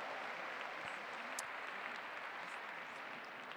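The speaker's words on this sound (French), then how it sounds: "Je crois qu'elle serait ravie d'entendre vos applaudissements retentir, mesdames, messieurs." Steady applause from the spectators at the Saut Hermès CSI5* show jumping event, a soft, continuous patter of many hands heard from a distance for a few seconds.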